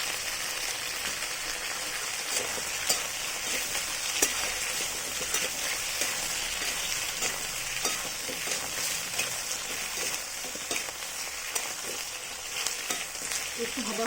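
Cauliflower florets fry in a pan with a steady, close sizzle and crackle that continues without a break throughout, broken now and then by small pops.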